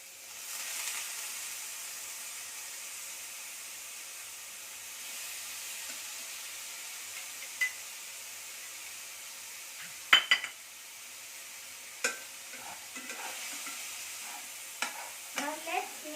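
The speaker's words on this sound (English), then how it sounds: "Now that the oil is hot, we'll add the onions." Chopped onions fry in hot oil, a faint, even hiss at a distance, broken by a few light clinks and stirring scrapes in the latter half, with no speech.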